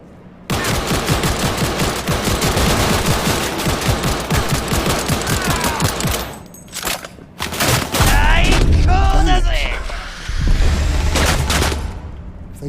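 Gunfire in a Cyberpunk 2077 firefight: sustained rapid shooting for several seconds, then scattered shots and heavy booming impacts, loud and dense throughout.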